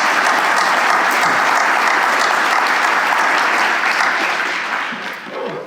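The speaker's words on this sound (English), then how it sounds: "Can we have another round of applause for" Loud, dense audience applause at a 50th reunion brunch and celebration, a sustained wash of many hands clapping that holds steady for several seconds before thinning slightly at the end.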